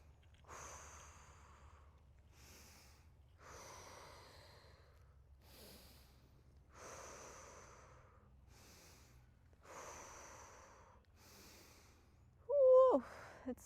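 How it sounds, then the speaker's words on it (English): Slow, deliberate nasal breathing done as a sinus and head-pressure relief exercise: about seven close, airy breaths in a steady rhythm with no talking, ending in a brief louder vocal sound. "You can also do nose breathing."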